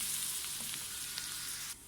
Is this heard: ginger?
yes